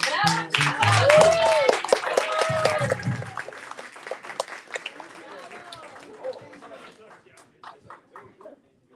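An audience claps and cheers after a band's cover at a community event, a loud burst mixed with talking voices that tapers into scattered claps.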